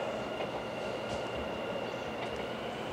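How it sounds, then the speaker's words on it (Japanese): A Kintetsu Osaka Line rapid express rolls into Yamato-Yagi station, a steady, fairly distant rumble of wheels on rail with faint squeals, and no talk. "A rapid express bound for Osaka Uehonmachi is arriving at track 3."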